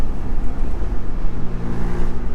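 Loud, close exhaust note from a straight-piped Honda Civic EP3 Type R, with steady engine drone and low rumbling harmonics that waver slightly throughout, heard alone without talk.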